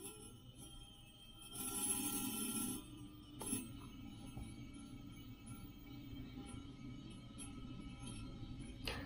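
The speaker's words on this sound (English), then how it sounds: "The reason why you hear this ringing noise is because I forgot the screws in this coupling, and they are getting a bit loose, so they vibrate together with the motor." A stepper motor run through a TB6600 driver gives off a faint, thin metallic ringing from loose coupling screws vibrating with it, a quiet sustained tone with a brief brighter burst partway through.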